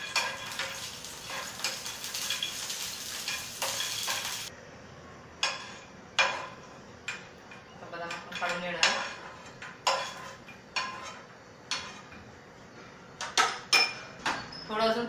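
Almonds and walnuts frying in ghee in a pan, with a spatula clinking and scraping in sharp, irregular taps over a soft sizzle.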